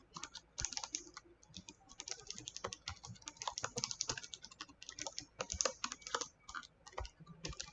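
Steady typing on a computer keyboard during a Photoshop sublimation design session, dense rapid key clicks with irregular bursts and short pauses, close and clear with no talking.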